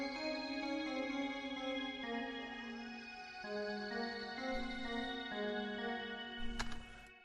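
Two layered synth pads, a Milky Way pad and a Bell Pad, hold sustained soft chords with a shimmering bell-like top. The chords shift every couple of seconds, and a brighter swell rises near the end.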